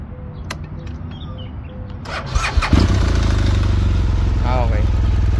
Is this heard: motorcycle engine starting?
yes